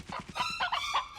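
A cartoon rooster in an animated adventure series crows and clucks in a short, brassy burst of rising, squawking calls, heard alone and fairly close.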